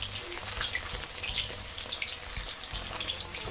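Pieces of marinated pork deep-fry in oil over medium-high heat, making a continuous bubbling sizzle with scattered pops and crackles. The frying is moderately loud and steady, with no voices.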